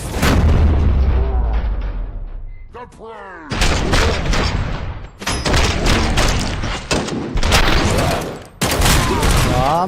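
Heavy gunfire in Robocop: Rogue City, loud rapid bursts of shots and booming impacts that stop briefly and then return, with someone talking over the action.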